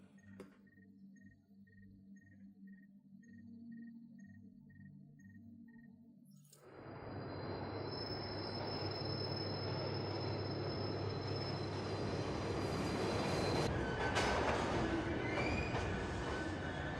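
An underground train in the video game The Division starts up after a quiet stretch of low electronic hum and pulsing tones, then roars steadily with rumbling wheels, squealing rails and high metallic whines, loud and continuous with no voices.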